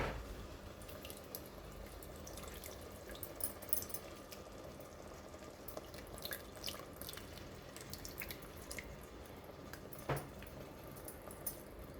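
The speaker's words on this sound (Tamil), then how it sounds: "ஸோ அந்த புளி தண்ணி போடுறேன்." Tamarind water is poured into a homemade Roopchand fish curry, giving a soft, quiet trickle and splashing in the pan with small drips, and no talking.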